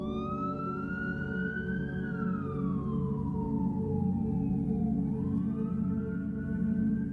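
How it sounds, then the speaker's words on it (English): A wailing emergency vehicle siren sweeps up and down in pitch, steady and fairly loud over a constant low background rumble, with no talking. "he was awoken to the sound of sirens"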